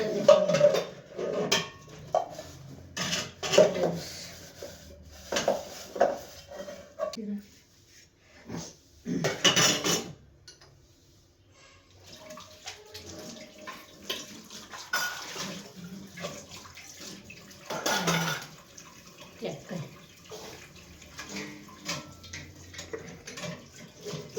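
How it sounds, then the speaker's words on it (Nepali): Dishes, pots and pans being washed with running water, intermittent clatter of utensils and splashing in short bursts with pauses, a person talking quietly at times. "खाइयो, भाँडा धुन लगाइयो, भाँडा पनि धोइयो।"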